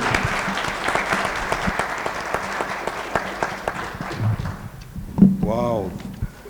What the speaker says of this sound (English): So a round of applause for not just the panelists